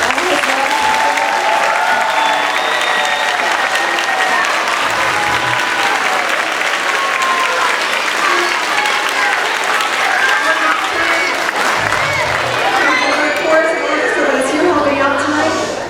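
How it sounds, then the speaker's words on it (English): An audience claps and cheers for Mr. McDonald at a Brooks Crossing event, a loud sustained round of applause lasting the full stretch, with a few voices and whoops rising through it. "Can we please have a huge round of applause for Mr. McDonald?"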